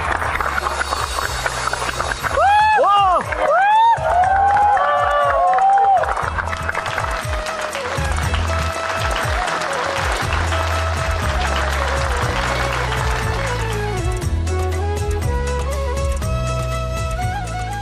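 Loud crowd applause with cheering and squeals welcomes a singer and his team at a festive Gujarati stage event, mixed with music and a rising, sliding tone for the whole stretch.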